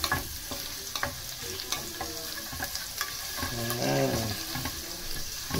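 Chopped garlic fries in cooking oil for sautéed miswa noodle soup, a steady close sizzle with scattered clinks and stirring scrapes and a brief fuller bubbling burst near the end.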